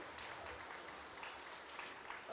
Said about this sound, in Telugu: గట్టిగా క్లాప్స్తో థ్యాంక్ యూ చెప్తాం